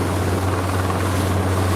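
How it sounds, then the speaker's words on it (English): Helicopter flying close behind a chase boat at an ocean race start, a loud, steady rotor drone with a deep low thrum and wash of wind and water noise. "the helicopter coming up behind us, sorry if it's a bit loud"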